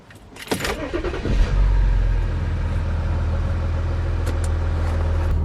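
A car is cranked and starts, keys rattling first, then the engine catches with a rising rev and settles into a steady, close idle.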